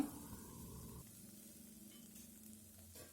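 Turmeric seasoning fries in oil in a pan for a Mangalore-style ridge gourd sukka, giving a steady low sizzle with a brief stir or clatter near the start and again near the end, alone without talk.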